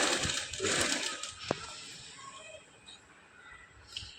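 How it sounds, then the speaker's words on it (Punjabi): A sewing machine stitches a seam along the buckram of a garment neckline. It makes a soft, steady whirring run that stays fairly quiet and close. A few faint clicks cut in, and no voices are heard. "ਹੁਣ ਬਿਲਕੁਲ ਬੁਕਰਮ ਦੇ ਨਾਲ ਨਾਲ ਆਪਾਂ ਸਲਾਈ ਲਗਾਵਾਂਗੇ"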